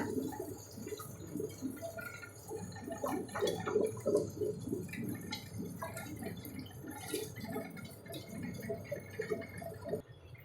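A small amount of water is poured into a mixer-grinder jar while making eggplant masala gravy, giving close, soft, irregular trickles and drips that come and go over several seconds.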